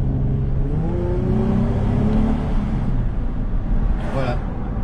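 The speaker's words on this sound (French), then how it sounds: "Toujours un plaisir ces tunnels de pouvoir ouïr ce grand V6 magnifique." A big Infiniti G35 V6 engine revs inside a tunnel, a loud, reverberant drone that climbs in rising sweeps, echoing throughout with no talk over it.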